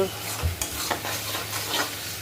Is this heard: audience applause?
no